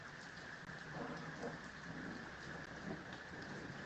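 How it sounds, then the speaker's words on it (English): Rain falls steadily with a low rumble of thunder beneath it, a constant wash of broadband hiss at moderate, even loudness throughout with no voices. "I think that's thunder"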